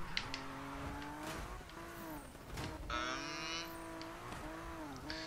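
A Toyota Supra drifts in the 2016 Need for Speed racing game, its engine holding a loud steady drone that sweeps up and down in pitch as it is revved, with a brief high tire squeal partway through.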